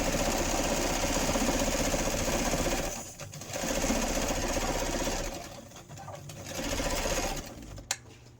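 A sewing machine stitches a patchwork notebook cover with a steady, close mechanical whir, stopping briefly twice before running again and ending with a small click.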